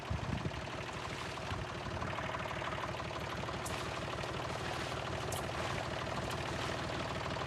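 A farm tractor's engine idles close by with a steady low, pulsing chug that continues unbroken and alone, without any talking.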